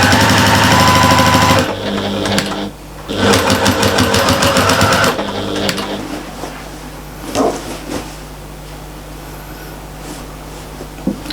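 A sewing machine stitches the side seam of a large shopper bag in loud mechanical bursts, with starts, stops and handling noises between runs, close by.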